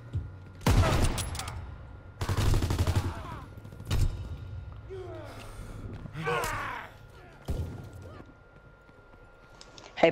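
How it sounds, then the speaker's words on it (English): Shotgun blasts from the video game Call of Duty WW2, loud sharp bursts repeating every second or two, with a voice talking between the shots. "point blank shotgun doesn't kill him"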